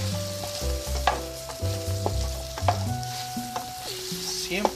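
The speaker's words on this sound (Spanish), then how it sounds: "vamos a sofreír la cebolla y le vamos a agregar el ajo. Hay que menearla." Onion and garlic sauté in a pan for a bolognese sauce, a close sizzle and frying crackle with stirring, under steady tonal music; no speech.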